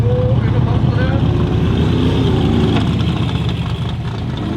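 A turbocharged racing engine powers a Formula Offroad car at a Norwegian championship track in Telemark. It runs at a steady mid-pitched drone throughout, partly under someone talking nearby.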